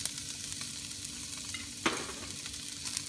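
Chopped onion hisses in olive oil in a pan, a constant close sizzle with a brief sharper crackle partway through and no talking.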